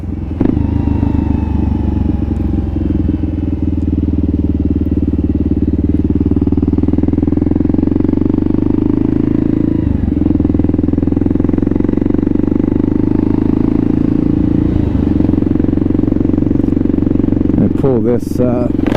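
A Kawasaki KLR650 motorcycle being ridden after a rebuild, its steady engine drone running loud and continuous throughout, with a few brief clatters and rattles near the end.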